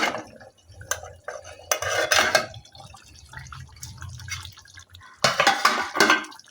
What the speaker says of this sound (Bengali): দেখো কিছুক্ষণ পর আমি ঢাকনাটা খুলছি